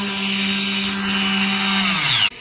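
A power machine runs in a shop with a loud, steady motor whine, then winds down and cuts off abruptly near the end.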